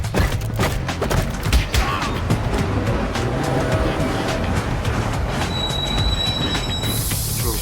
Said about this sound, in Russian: Поезд с подкреплением примут.